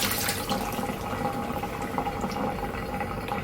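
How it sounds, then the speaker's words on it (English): Blueberries are washed under running tap water in a kitchen sink, a steady loud splashing stream with small bursts of dripping and clatter throughout, no talking. "Okay, so we're washing these blueberries."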